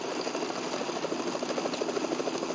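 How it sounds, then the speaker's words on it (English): Helicopter in Metal Gear Solid 2: Sons of Liberty, a steady rotor thump and engine drone heard alone at moderate loudness. "Is that a chopper I just heard?"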